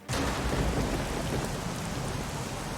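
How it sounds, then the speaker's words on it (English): Steady, dense rain in the horror game Layers of Fear 2, a loud continuous wash of drops that starts abruptly and holds evenly, with a low rumble underneath suggesting thunder. "Okay, rain."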